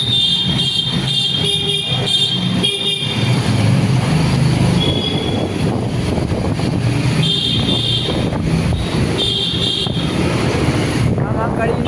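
A train rumbles past a railway station loudly and continuously, wheels squealing in high metallic tones, with voices faintly mixed in.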